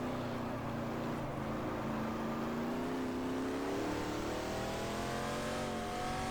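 A period racing car in GT Legends, its engine note steady, then rising as it revs and shifts through the gears, loud and close with no talk.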